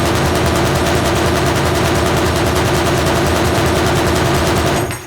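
Sustained automatic gunfire from the Arma Reforger video game, a dense, loud, continuous rattle of rapid shots filling five seconds before cutting off abruptly at the end.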